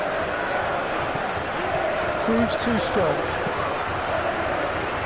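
A stadium crowd at a Newcastle versus Liverpool Premier League match in eFootball PES 2021 keeps up a steady, broad roar throughout, with a commentator talking over it.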